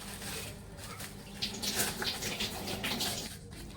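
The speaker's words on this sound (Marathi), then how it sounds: "अशा प्रकारे मी या ठिकाणी हा चहा ओतून बघते" Tea poured from a new, previously unused pot, a steady broadband liquid stream running near and continuous for the whole stretch with no talk over it.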